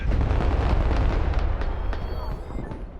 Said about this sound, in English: Try to run out of the way of the artillery.